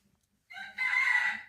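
After a moment of near silence, a single rooster crow rings out loud and close, rising into a long, strained call.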